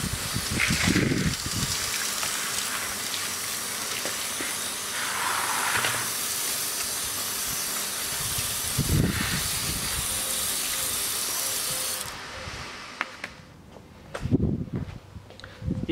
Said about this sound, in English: clean it with some water.